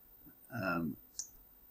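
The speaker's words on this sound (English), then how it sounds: "If we press Alt and then left click on PC." A single sharp computer mouse click, made with Alt held down for the clone tool in Photoshop, sounds close and crisp after a short murmur of voice.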